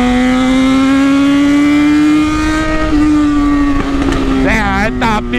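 Loud motorcycle engine held at a steady high rev, then crackling and popping with quick pitch sweeps as the throttle is blipped near the end.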